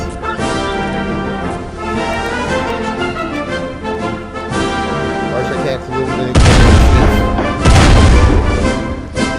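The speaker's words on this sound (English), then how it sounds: "As a 21 gun salute rages in the background." A 21-gun cannon salute at an inauguration ceremony: two loud, heavy booms crack out close together near the end, over a steady bed of crowd noise and music.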